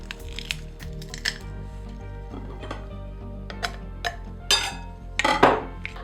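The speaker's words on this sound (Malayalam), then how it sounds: "പിന്നെ ഗാർലിക്ക് ഇതുപോലൊരു പ്രസ്സിനകത്തിട്ട് പ്രസ് ചെയ്യാണ് ചെയ്യുക" Garlic squeezed in a metal garlic press, giving a run of close clicks, clacks and metallic knocks as the handles close and the utensil bumps the counter, with no talking.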